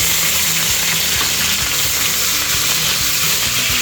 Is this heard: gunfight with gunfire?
no